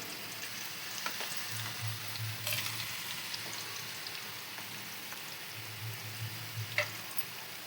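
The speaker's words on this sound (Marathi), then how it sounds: "कांदे पण आपले ब्राऊन होईपर्यंत आपण चांगल्याने तळून घेऊ शिजून घेऊ चांगले खडे मसाले कांदा वगैरे" Whole spices and onion fry in a pan for chicken biryani, a steady soft crackling sizzle with a few sharper pops and spoon scrapes, moderately close, no voices.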